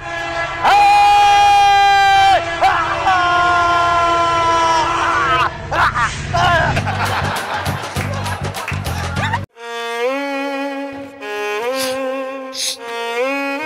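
An express train arrives with long, loud blasts of its horn over a rumbling rush and clatter of wagons, then another sustained horn tone sounds near the end.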